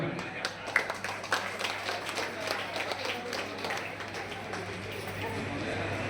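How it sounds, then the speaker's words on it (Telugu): A crowd at a temple felicitation ceremony claps faintly and unevenly under a low steady hum, with a few sharper claps standing out and some voices mixed in. "అందరూ కూడా చప్పట్లు కొట్టండి"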